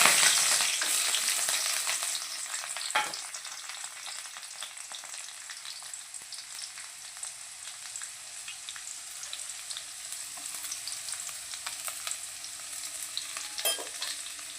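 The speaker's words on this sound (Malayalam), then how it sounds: "കറിവേപ്പിൻ്റെ ഇലയും ചെറിയുള്ളിയും കൂടി നമുക്ക് മൂപ്പിക്കാം" Chopped curry leaves and shallots fry in a pan for a coconut-free Kerala fish curry: an intense initial hiss settles into a continuous low sizzle with a few louder pops and stirs.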